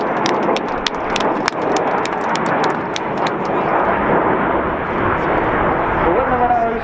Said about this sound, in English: As the jets go upside down now,